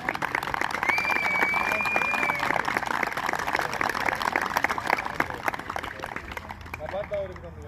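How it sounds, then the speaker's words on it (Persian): A crowd applauds at a football award ceremony, steady clapping running throughout at moderate loudness, with a whistle-like tone early on and voices mixed in near the end. "تشویق بکنید"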